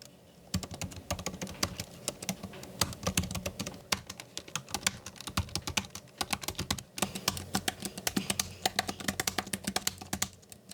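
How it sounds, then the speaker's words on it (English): Steady, rapid typing on a Lenovo Slim Pro 9i laptop keyboard, crisp key clicks in uneven bursts with brief pauses, close and clear with no voices. "Here's a quick typing comparison test."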